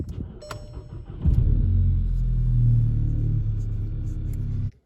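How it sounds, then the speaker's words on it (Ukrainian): A VW Golf GTI engine cranks and catches after an oil change, then settles into a steady, deep idle rumble close by, ending abruptly after a few seconds. "Так, перший пуск після заміни масла."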